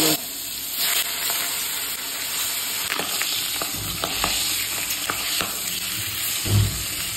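Spices such as turmeric, chilli powder and cumin seeds frying in hot mustard oil, a continuous close sizzle with occasional crackles and stirring scrapes, no talking.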